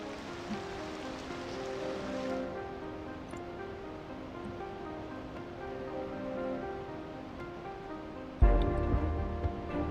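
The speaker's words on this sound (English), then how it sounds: "Oh, and now we have rain." Steady hiss of rain falling as a weather effect in the Cities Skylines 2 city-building game, continuous and moderately loud over a tonal background music bed, with a louder swell near the end.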